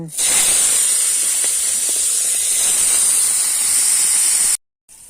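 Long beans frying in oil in a wok, a loud, steady hissing sizzle close by that runs evenly before stopping suddenly just before the end.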